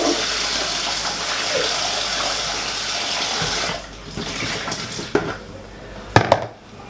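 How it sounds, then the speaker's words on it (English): Water rushes and sloshes as a bowl is swilled out for rinsing, a loud steady flow for several seconds that then breaks into a few splashes and drips. "what we're going to do now is just swill out this"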